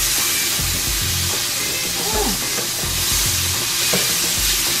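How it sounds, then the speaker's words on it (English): Canned minced garlic fries in a pan for a lobster and shrimp Alfredo, giving a steady close sizzle with occasional stirring scrapes and clinks. "we're gonna just wait for the garlic to get golden brown"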